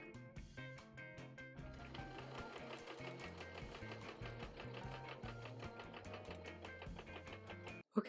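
A sewing machine runs long straight skirt seams on a medieval kirtle, its needle rattling in a fast, steady rhythm for several seconds before stopping abruptly with a closing clunk.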